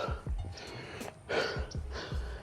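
Heavy, rhythmic gasping breaths during a burpee workout using a Navy SEAL technique, with sharp inhales and forceful exhales repeating close to the microphone.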